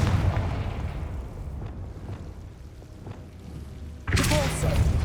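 A Confringo blasting curse explodes in Hogwarts Legacy, with low booming rumbles and thuds throughout and a loud burst near the end. Voices speak over the blasts.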